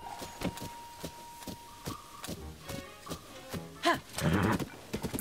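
Horse in The Legend of Zelda: Tears of the Kingdom trotting closer after being called, with a run of evenly spaced hoof clops and a brief whinny-like burst near the end, fairly quiet against soft game ambience.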